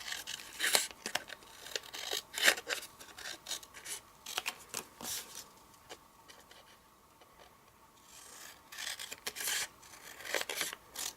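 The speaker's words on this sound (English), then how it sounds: "Then you put tear and tape on the inside. And cut off the surplus." Tape is torn and trimmed with scissors at close range during a craft project, making a series of sharp snips and rasping tears in irregular bursts with a quieter pause midway and no talking.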